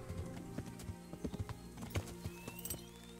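Horse hooves clip-clop on the ground in the medieval role-playing game Kingdom Come: Deliverance, a steady uneven run of close, clear hoofbeats with game ambience underneath.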